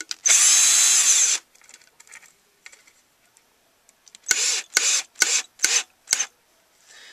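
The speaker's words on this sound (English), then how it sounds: "simply tighten it down with the drill" A power drill whirs loudly for about a second, then after a pause gives five short, quick bursts as it drives a screw home into a pre-drilled hole on a bowtie antenna.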